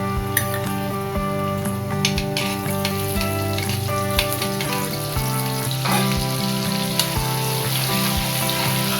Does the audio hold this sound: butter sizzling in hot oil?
yes